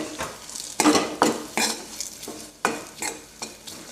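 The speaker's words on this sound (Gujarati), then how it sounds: "હવે બધું સારી રીતે શેકી લઈએ એક મિનિટ માટે શેકાવા દેવાનું છે" A peanut powder mixture is roasted and stirred in a pan for a low-ghee fasting dish, giving close, rhythmic scraping strokes of a spoon against the pan with a light sizzle between them.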